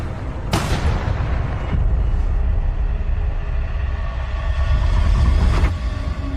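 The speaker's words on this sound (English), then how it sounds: "and then Andrew Salazar got out and began shooting" Gunfire from a shooting in a true crime reenactment: a couple of sharp, loud booming shots ring out near the start and again near the end, over a steady low rumbling background, with no talking.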